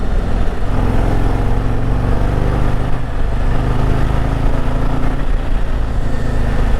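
A 2025 Harley-Davidson Street Glide Ultra ridden in sport mode on a chilly day, its engine giving a loud, steady low rumbling drone with constant road and wind noise and no speech.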